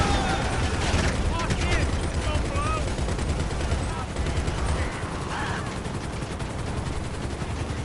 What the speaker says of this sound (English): One downside I don't like about the machine gun, guys, is it takes a little bit longer to destroy some soft target vehicles.